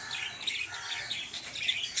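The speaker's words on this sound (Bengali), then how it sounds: "আমাদের পাখিগুলো খুব দুষ্টু করছে, চিল্লাচিল্লি করে যাচ্ছে" Pet birds kept indoors on a foggy winter morning chirp and call in a busy, overlapping chatter, steady at moderate loudness, with a few sharper tweets standing out.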